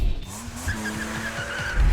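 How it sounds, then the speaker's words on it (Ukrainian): Fast race car tearing through a muddy swamp course, heard as a brief close engine whine with rising tonal sweeps and a squealing, skidding edge, loud and alone for under two seconds. "А ти бачив швидку машину по болоту?"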